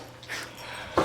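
Dogs breathing and panting quietly close by, ending in a short, sharper whimper.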